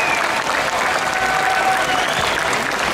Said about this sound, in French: on va accueillir sous un applaudissement